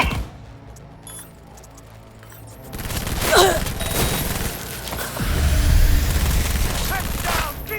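Cyberpunk 2077 firefight: bursts of gunfire and sharp shots break out after a quieter stretch, loud and close, with voices shouting among the shooting.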